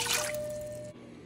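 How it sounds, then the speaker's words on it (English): A short trickle of water runs into the base of a slow cooker, a light steady pour that stops abruptly near the end, fairly quiet and alone. "In my slow cooker base here, I'm going to add 1 cup of water."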